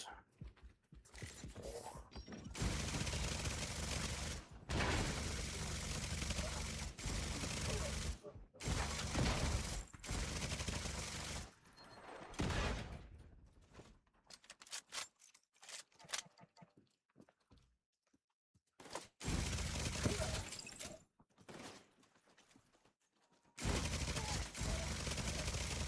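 Automated turrets in The Division 2 fire long bursts of rapid gunfire, loud and dense, broken by short pauses and quieter stretches of scattered mechanical clatter and distant shots.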